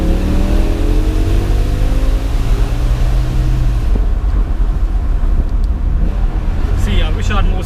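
A BMW M5 E60 in second gear after a downshift gives a loud, droning engine note that climbs and then drops away. Heavy wind buffeting plays over it throughout, and a voice is heard in the cabin.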